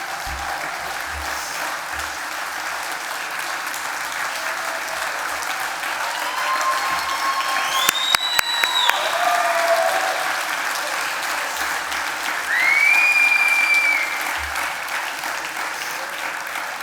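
Audience in a room applauding after diabetics in the crowd are asked to stand, a steady sustained clapping that swells briefly near the middle and again toward the end, with faint whistles or cheers rising over it.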